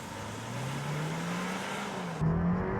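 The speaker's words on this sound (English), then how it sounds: "here's how the Kia Seltos looks off the line when in sport mode" A 2024 Kia Seltos in sport mode pulls away from a standstill, its engine note climbing steadily from inside the cabin, then rising sharply in a louder surge near the end.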